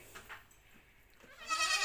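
Goats on a goat farm bleat in two or three short, wavering calls, close and moderately loud, with quiet pauses between them.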